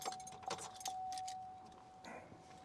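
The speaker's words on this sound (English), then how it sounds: "Let me take the key out." Keys jangling as they are pulled from the ignition of a Chevy SSR convertible truck, with short metallic clinks over a steady warning chime, close and fairly quiet.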